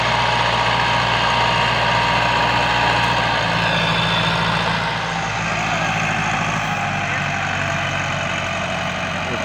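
A heavily loaded tractor engine idles steadily on a Punjabi farm during potato planting, a continuous low rumble with a faint rhythmic knock that holds for the whole stretch without speech.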